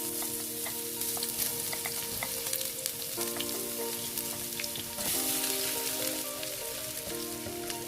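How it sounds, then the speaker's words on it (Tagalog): Garlic and onion frying in a hot pan for chicken adobo, a constant crackling sizzle with intermittent stirring scrapes, close and fairly quiet, no talking. "hinalo-halo ko lang ng konti para hindi naman masunog ang bawang"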